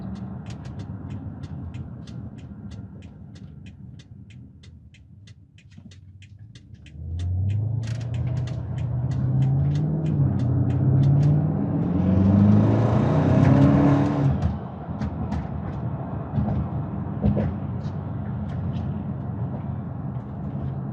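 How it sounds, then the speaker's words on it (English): A 2014 BMW X5 xDrive50i engine idles quietly, then revs up hard with rising tones, a roaring exhaust peaking before easing back to a steady drive. "You still hear the exhaust kind of crackle a little bit, the turbo kind of whistle."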